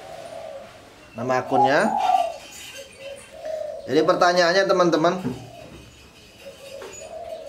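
A caged zebra dove (perkutut) coos in soft, repeated low calls, partly under someone talking in the foreground.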